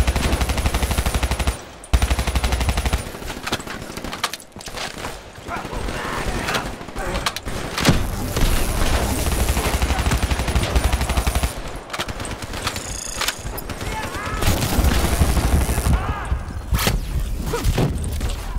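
Call of Duty: Black Ops III co-op combat with dense, continuous automatic gunfire and rapid bursts, loud and close, with thumps and mechanical clatter under busy game effects and occasional voices.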